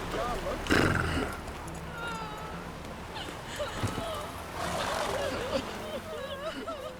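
Roach, Geralt's horse in The Witcher 3 video game, gallops with a steady rhythm of hoofbeats and lets out a whinny. A voice urges the horse on over the hoofbeats.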